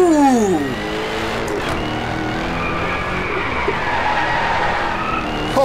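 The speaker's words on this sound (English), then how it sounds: "Jags make some of the nicest sounding V8s in my personal opinion." A Jaguar V8 in the DriveClub racing game roars steadily while tires skid and squeal, with a sharp falling screech at the start and a continuous loud engine drone under it, no voices.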